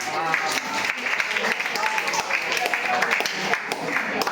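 Students in a 12th-standard accounts lecture classroom clap loudly together in a dense, sustained burst of applause, with a voice speaking over it.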